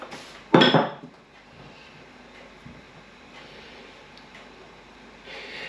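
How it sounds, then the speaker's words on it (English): A pie dish is set down over rolled pastry with one sharp, close clatter, after which only quiet room noise and faint rustling remain. "Now bring your pie dish back in. Right over the top."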